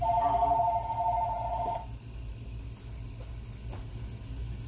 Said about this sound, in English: Y'all knew the phone was going to ring, didn't you?